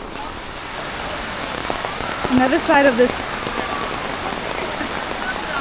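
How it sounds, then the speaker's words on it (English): Heavy rain falls steadily at Athirappilly Waterfalls in Kerala, a dense, even hiss of drops on surfaces that fills the scene, with a voice briefly speaking over it near the middle. "The rain is quite heavy."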